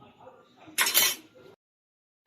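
Yardlong beans and taro leaves dropped into a pot of coconut milk for laing, a brief burst of clinking and rustling splash that rises, then cuts off into silence.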